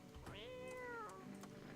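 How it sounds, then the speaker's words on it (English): A single drawn-out cat meow from the video game No I'm Not Human, rising then slowly falling, heard once, clear but quiet, with faint background noise. "Pet the cat."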